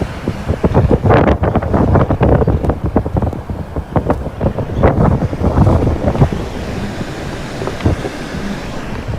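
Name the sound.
blizzard wind gusts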